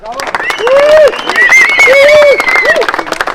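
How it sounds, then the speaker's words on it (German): A crowd at a turbo go-kart race in Wohlen applauds and cheers the winning team, dense clapping mixed with raised shouting voices, loud and close. "Ein riesen Applaus für die Left Breakers!"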